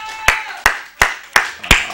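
Five sharp, evenly spaced hand claps from a church congregation during a sermon, loud and close, about one every 0.35 seconds, with no talking over them.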